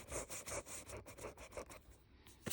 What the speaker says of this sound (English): So what I'm doing is I'm rubbing out the areas that I'm not going to keep.